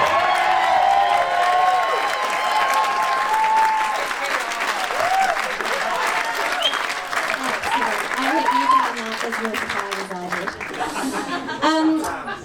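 Wedding guests clap during the reception speeches, a full round of applause mixed with chuckles and laughter, fading gradually while a speaker's voice continues over and after it.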